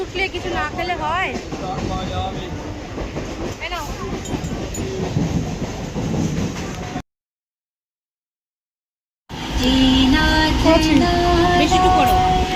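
Interior of a moving train during office hours, with a steady rumbling rail roar and rhythmic clatter under people talking, briefly cut to silence before resuming louder.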